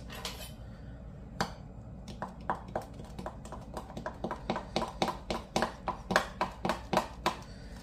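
A spoon stirs instant coffee and water in a cup, making a quick run of bright clinks against the sides that speeds up into a steady tapping rhythm, close and clear.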